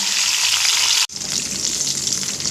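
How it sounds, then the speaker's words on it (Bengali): Eggs coated in salt and turmeric frying in oil for a pointed gourd and egg curry, a loud steady crackling sizzle close by, briefly cut off for an instant before resuming. "এই একই তেলের মধ্যে লবণ হলুদ মাখানো ডিমগুলো হালকা ভেজে নেব"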